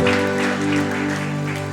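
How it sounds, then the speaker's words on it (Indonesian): A church congregation at an Indonesian worship service applauds, with steady, loud clapping running throughout over sustained music, no voices on top. "Berikan tepuk tangan meriah buat Tuhan kita."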